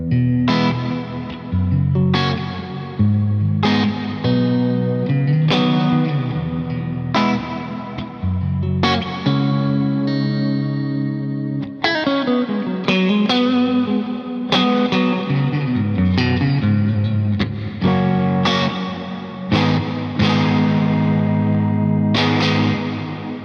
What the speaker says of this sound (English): You can also stack them and have 2 different reverbs going into each other, which is, again, a very creative and super spacey way of using a reverb.